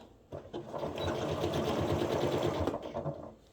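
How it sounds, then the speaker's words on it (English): A sewing machine stitching small fabric adapters for a beach bag, running as a close, fast, steady mechanical whir for about three seconds with brief stops at the start and end. "So now we're going to go ahead and sew up these little adapters."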